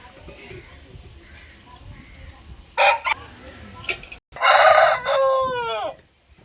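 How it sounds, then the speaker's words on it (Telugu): A household rooster lets out one loud, close crow that sweeps downward at the end, preceded by a few short sharp squawks against a quiet background. "మా కోడి బాగా అరుస్తుందండి"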